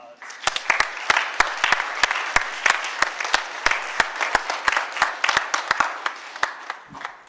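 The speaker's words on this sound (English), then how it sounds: "Let's give our 6th grade SOAR members a big round of applause" An audience at a middle school awards assembly gives a round of applause for sixth grade SOAR members, with distinct sharp claps standing out from a steady wash of clapping, sustained throughout.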